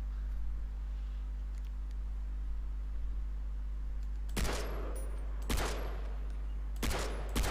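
Three short, sharp bursts of Far Cry 3 gunfire crack out one after another over a steady low background hum, with long quiet stretches before them.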